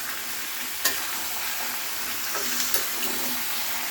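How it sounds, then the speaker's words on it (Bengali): Spice paste fries with chicken feet in a wok, a continuous hissing sizzle with two or three sharp scrapes as the mixture is stirred. "এইভাবে ঢেলে নাড়িয়েও নিচ্ছি। ভালো করে নাড়িয়ে নিতে হবে যেন মশলাটা এদিক ওদিক লেগে যায়।"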